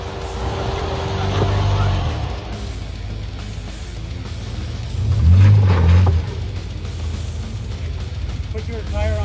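Jeep JL engine revving and rumbling while crawling over rocks on the Rubicon Trail, a steady low drone with a louder surge midway, outdoors with people talking over it.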